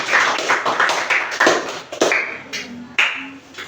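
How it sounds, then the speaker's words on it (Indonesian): A class of students applauds in a classroom, with scattered, uneven claps and taps coming near and fairly loud, then thinning into a few separate claps. "Nah, tepuk tangan dulu."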